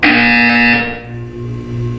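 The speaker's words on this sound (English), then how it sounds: "When you hear the buzzer, look down at the floor." A loud electronic buzzer from the game Portal 2 sounds once, harsh and tonal, then fades into a low droning hum.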